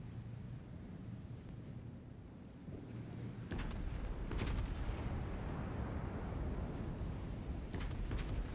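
Naval artillery from a warship video game: a low rumbling bed, then heavy booming salvos break in partway through and continue as a dense roar.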